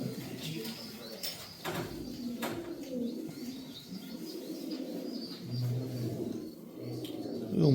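Old Sialkoti breeding pigeons coo softly in low repeated calls, fairly close, with some faint chirps and light background talk.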